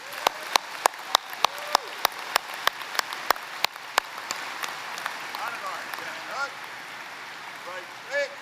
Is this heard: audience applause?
yes